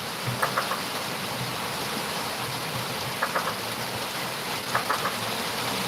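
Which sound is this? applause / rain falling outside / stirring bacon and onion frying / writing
rain falling outside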